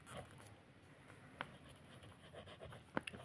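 A pen scratches out an accounting entry on paper in a Bengali-language lesson, with faint, close strokes and a couple of small taps, heard alone without talking.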